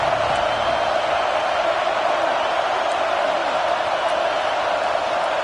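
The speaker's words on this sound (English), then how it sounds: "Here comes his home crowd as the defense tries to get off the field on 3rd down." Home crowd noise from a football video game, heard as a steady, dense roar of many voices holding at an even level throughout as the defense lines up on third down.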